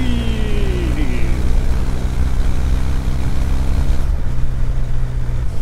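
An air-cooled Kawasaki W800 motorcycle engine and exhaust drone steadily at speed on the road, a loud continuous rumble with wind noise and a brief shift in tone near the end.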